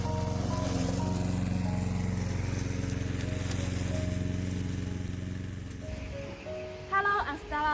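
A Vigorun Tech remote control lawn mower with a heavy frame runs with a steady, loud engine drone, then the motor tone drops and changes near the end.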